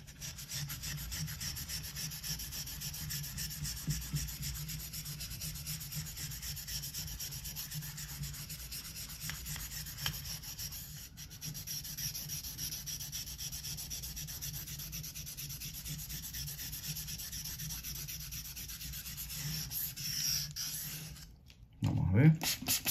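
An Opinel knife blade is stroked over a 1000 grit whetstone in a steady, continuous scraping rub, close and fairly even, with a brief louder knock near the end.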